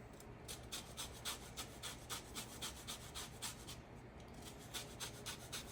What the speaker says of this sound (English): we're going to zest a bit of lemon in there